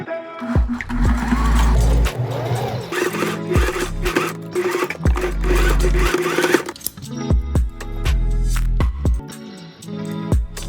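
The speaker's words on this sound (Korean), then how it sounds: "재봉틀도 잊지 말고 준비해주세요." A sewing machine stitches fabric for a dog shirt dress reworked from a vintage garment, running in several loud, close bursts of rapid mechanical whirring separated by short pauses and clicks.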